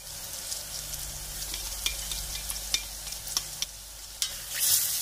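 Mushrooms, carrots and onions fry together in a pot, giving a steady broadband sizzle with a few sharp scrapes and clicks of stirring spaced through it, moderately close and with no voices.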